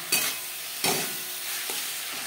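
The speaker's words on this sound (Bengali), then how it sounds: "কাঁচা গন্ধ যাওয়া পর্যন্ত নাড়াচাড়া করে নেব।" Green chili and ginger paste stirred in a frying pan, three distinct spatula scrapes punctuating a continuous close, fairly loud sizzle.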